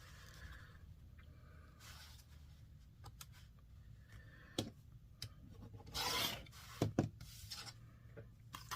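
Fabric for a homemade pillow cover is trimmed by hand near a sewing machine with a walking foot, producing faint scattered cutting and rubbing sounds in a quiet room.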